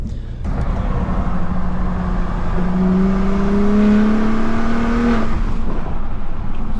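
A Gen 3 Ford Raptor truck on stock exhaust revs its engine, a loud, close rumble whose pitch climbs steadily over a few seconds before dropping back to a steady idle-like drone.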